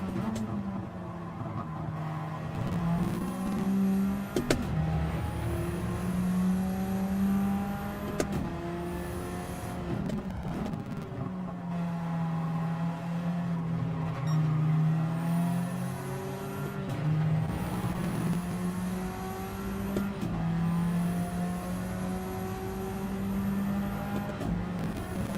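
Race car engines roar continuously in a racing video game endurance race, rising and falling through repeated gear shifts and revs, with other cars passing close by.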